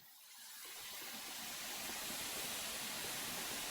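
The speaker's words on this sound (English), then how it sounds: "oh, I can hear steam come up." A steam locomotive in the Train Sim World 3 video game lets out a broad hiss of steam that swells in over the first couple of seconds and then holds steady, fairly quiet and alone.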